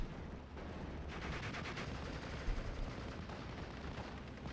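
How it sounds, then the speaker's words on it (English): Aircraft strafing gunfire in the WWII strategy game Steel Division 44, a steady roar of rapid automatic fire with a sharper burst midway, dense and continuous throughout. "going in for the strafing run"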